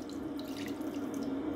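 A glass of water pours steadily into a frying pan, a continuous splashing rush with light spattering on top, close and fairly loud.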